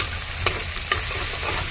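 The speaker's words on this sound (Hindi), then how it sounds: "अब तीनों को एक साथ में तेल के साथ में फ्राई कर रहे हैं" Onion, garlic and green chili frying together in oil for a chicken curry, a low steady sizzle broken by two or three sharp spatula scrapes close by, with no voices.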